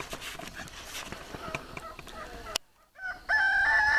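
A rooster on a farm with ducks and geese crows once, loud and close, near the end after a brief pause, following busy clucking and scuffling noise.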